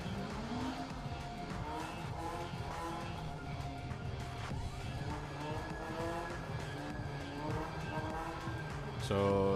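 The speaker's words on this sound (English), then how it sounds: "that Javed Wahab is piloting, the orange Caterham, it's running a 4AG engine, Toyota engine" An orange Caterham-style Ram Slingshot with a Toyota 4AG engine at a drag race, its engine droning and revving loudly with tire squeal and skids, a whine rising midway, while a commentator talks over it.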